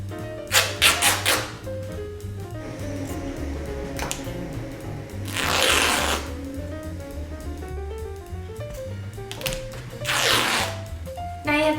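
Inexpensive fabric torn along the grain by hand, three bursts of broadband ripping spaced a few seconds apart, close and fairly loud, with steady low room hum underneath and no talking.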